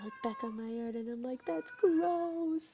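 A female cat in heat yowls loudly in several drawn-out, wavering cries close by, heard behind a person's speech.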